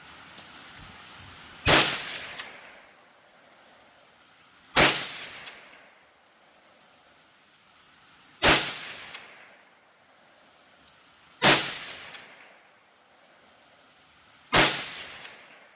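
Five sharp gunshots from a .22 WMR rifle firing Winchester HV varmint jacketed hollow points, spaced about three seconds apart, each a loud crack with a short decaying tail over quiet outdoor background.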